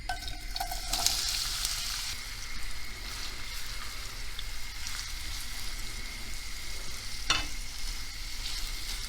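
Oil frying in a pan on a stovetop with a steady close crackling sizzle, brief stirring scrapes and a sharper spatter near the end, no voices.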